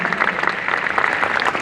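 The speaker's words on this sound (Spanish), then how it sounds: "Dale un aplauso fuerte a Jesús" A church congregation at a Pentecost Mass in Anaheim claps loudly and steadily, a dense wash of many hands filling the space evenly from start to finish with no voices standing out.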